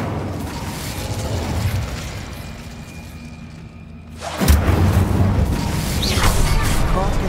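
In a video game, an Incendio fire spell erupts in a sudden loud whooshing burst after a quieter ambient stretch, then lingers as a roaring crackle.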